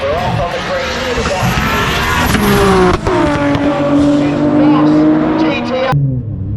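A Nissan GTR and a big-turbo G35 launch side by side at a drag race during a GTR festival in New Zealand, engines roaring loudly and revving in rising harmonic sweeps with turbo noise over steady crowd and announcer chatter.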